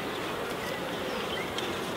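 Honeybees in a nucleus box give off a steady, even buzz, a dense close drone of a small colony with no voices.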